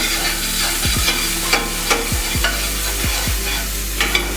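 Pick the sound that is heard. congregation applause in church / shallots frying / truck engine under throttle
shallots frying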